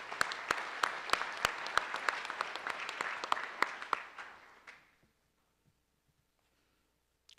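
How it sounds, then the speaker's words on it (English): Applause from a conference audience for best student paper award finalists at a robotics conference awards session, fairly dense clapping that fades out after about five seconds into near silence. "a round of applause for these finalists"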